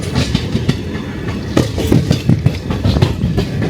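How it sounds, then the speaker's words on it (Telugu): A train rolls through Charlapalli Railway Station, a loud close rumble with clickety-clack wheel beats over the rails, steady for the whole stretch and no voices over it. "ఇప్పుడే కదా మన ట్రైన్ ఇటు దాటింది"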